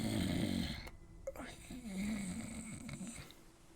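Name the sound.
man snoring while asleep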